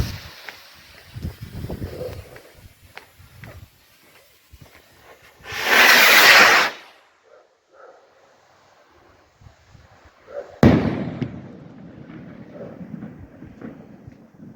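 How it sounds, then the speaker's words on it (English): A 75 gram firework rocket from a Blake 7 rocket pack bursts as a loud hissing roar of about a second in open air, then a sharp distant crack follows, over wind noise and quiet outdoor background. "Let's just fire another 75 gram rocket off just to see the difference."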